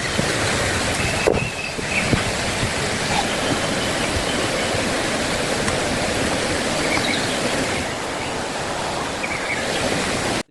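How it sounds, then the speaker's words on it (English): Flowing stream water rushes in a dense, steady roar, loud and close, continuing without a break and cutting off abruptly at the end. "the relentless force of the flowing water"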